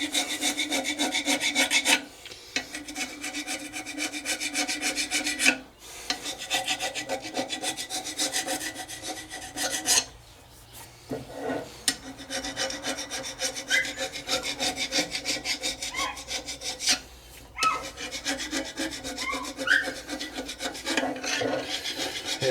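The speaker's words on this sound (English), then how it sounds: "It's got a carbide end on it, and you can just scrape off any rust or gasket or anything like that." A carbide-tipped hand scraper rasps rust and old gasket off a metal Mini cylinder head, with continuous close scratching strokes and a few brief pauses.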